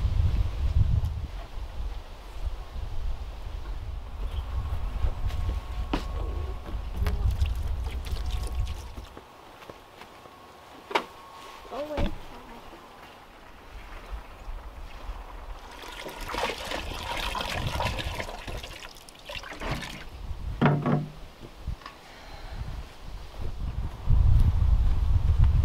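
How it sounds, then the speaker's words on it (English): Water trickles and splashes outdoors in cold weather, filling an off-grid laundry rinse tub at a moderate level, with low wind rumble and scattered knocks and clatter around it. "this is our rinse tub and we're just gonna fill it up"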